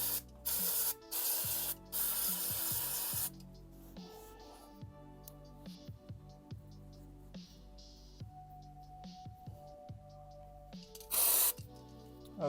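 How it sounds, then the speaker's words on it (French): Aerosol cleaner sprayed in short bursts onto car fuel injectors one at a time, loud hissing blasts near the start and a final burst near the end, with quiet tapping and handling noises between. "Maintenant, il me manque tous les injecteurs ici que je vais nettoyer un par un."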